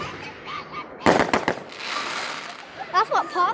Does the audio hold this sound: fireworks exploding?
yes